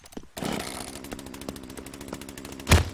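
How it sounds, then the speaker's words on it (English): Chainsaw in The Culling, a multiplayer survival game, revving in a steady buzzing drone for a few seconds with a short louder burst near the end, set among game effects. "killed an opponent with a chainsaw"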